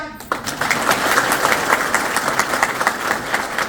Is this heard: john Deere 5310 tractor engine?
no